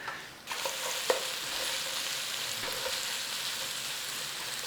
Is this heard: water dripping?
no